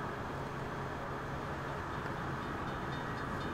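A steady, loud rumble of a steam train rolling past in Forza Horizon 4, with a continuous low churning and faint metallic clatter throughout.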